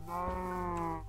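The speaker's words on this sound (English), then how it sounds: "Oh, there's some sheep." A sheep bleats once in a sustained, wavering call, close and clear, with no talk over it.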